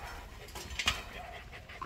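A five-month-old red, black-masked Belgian Malinois puppy pants softly and lets out faint whimpers, quiet and close, with low background noise around it.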